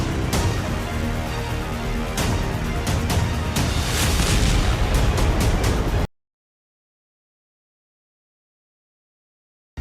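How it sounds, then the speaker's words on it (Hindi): A Russian aircraft destroyed by an explosion on Russian soil: loud, dense rumbling blasts with sharp bursts for about six seconds, then an abrupt cut to silence. "ये धमाका, रूसी विमान की ये बर्बादी"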